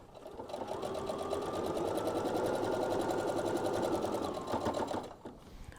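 Sewing machine running a fast, steady stitch on an apron, a loud continuous mechanical whir with rapid even needle clatter that stops abruptly near the end, no talk.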